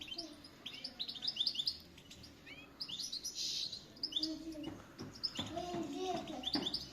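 Tunisian parva goldfinch chicks, about fifteen days old and just out of the nest, chirp in quick high bursts with overlapping calls throughout, while faint low voices murmur in the background.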